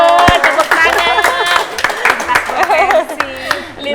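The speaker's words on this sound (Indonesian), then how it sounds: "tepuk tangan" An audience claps briefly during a talk-show style interview, scattered hand claps running beneath steady close conversation that continues over them.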